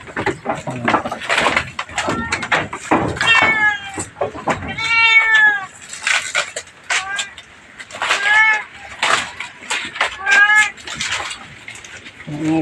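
A caged cat on a goat farm meows repeatedly in drawn-out, wavering cries, close and loud, with people talking over and between the calls.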